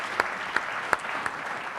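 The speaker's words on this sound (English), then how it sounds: "Give a round of applause for the news." A few scattered claps from a small audience, faint and sparse, four distinct hand claps spaced out over a murmur of room noise.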